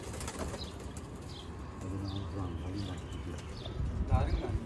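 A golden Rampuri pigeon on a rooftop, giving soft repeated coos with bursts of wing flapping, fairly faint and close, with a louder flutter near the end.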